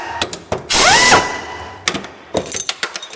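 Ratchet working the two 10mm mount bolts on a brake cable bracket of a Jeep Wrangler Rubicon rear axle: short clicking bursts with one longer whirring spin, close and loud with no talk.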